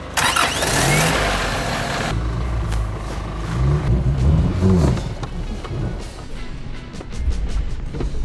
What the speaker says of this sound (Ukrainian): Диви, холості тримає.